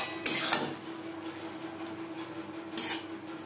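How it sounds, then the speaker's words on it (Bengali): Snake gourd stirred with spices in a pan, two short metallic scrapes of a spoon against the pan, near, over a faint steady hum. "মশলার সাথে চিচিঙ্গা 4-5 মিনিট নাড়াচাড়া করব।"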